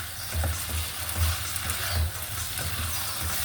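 Pork liver and spring onion sizzle hard in a hot pan, a steady close frying hiss broken by rhythmic stirring scrapes and bursts of crackle.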